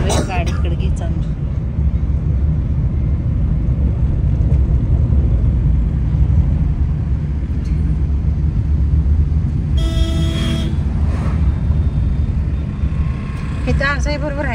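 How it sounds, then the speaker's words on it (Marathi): Inside a four-wheeler driving on a lightly rainy day, a loud, steady low road rumble runs throughout, with a few brief tonal sounds near the end. "आज थोडा पाऊस होता म्हणून आम्ही आज 4व्हीलर मध्ये चाललोय"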